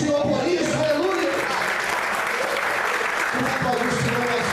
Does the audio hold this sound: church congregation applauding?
yes